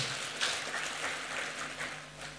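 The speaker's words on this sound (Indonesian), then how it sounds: "Berikan tepuk tangan buat putri-putrinya juga ya." Audience members at a polytechnic graduation ceremony clap for the graduates, a soft, diffuse patter of applause heard from a distance over a quiet hall.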